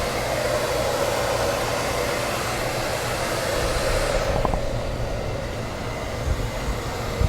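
A hair dryer fitted with a diffuser blows steadily on natural hair, a continuous close whooshing roar that shifts slightly in tone toward the end, with no talking.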